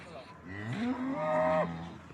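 A cow moos once, long and rising then falling, close and clear while being loaded into a vehicle, with faint background noise around it.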